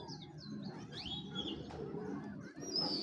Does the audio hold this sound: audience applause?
no